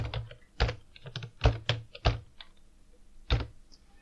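A signature is typed on a computer keyboard: a handful of distinct, fairly loud keystrokes, some in quick pairs and others spaced apart, in an otherwise quiet room.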